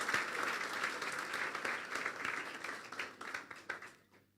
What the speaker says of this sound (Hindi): चलो तालियां बजा दो इसके लिए